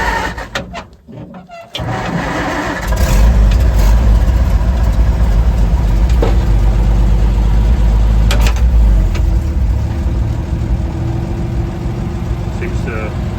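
A 1956 Oshkosh plow truck engine with full exhaust runs steadily after long storage, a loud low rumble that cuts in briefly, then settles into a continuous close idle, with voices talking over it.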